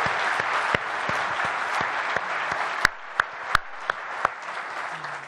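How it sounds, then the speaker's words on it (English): Applause from a conference audience at a corporate presentation, a dense steady patter of many hands clapping throughout, with a few sharper louder claps standing out near the end. "Let's give them all a round of applause."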